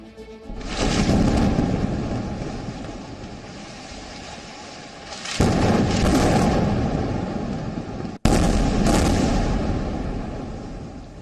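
Three heavy booming blasts from an air strike in succession, each a sudden broadband roar that lingers and rumbles before the next, with no voices.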